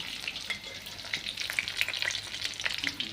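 Chillies fry in hot oil, with a busy crackling sizzle and frequent stirring scrapes close by, constant and fairly loud.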